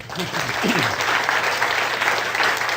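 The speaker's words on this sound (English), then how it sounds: "Give them a round of applause, folks" Audience applause greets a volunteer coming up during a hypnosis seminar, a steady, fairly loud burst of clapping with a voice briefly heard over it at the start.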